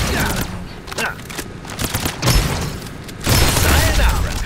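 Bursts of rapid gunfire and heavy blasts from a Farlight 84 video game firefight, loud and close, coming in clustered volleys with a sustained barrage near the end.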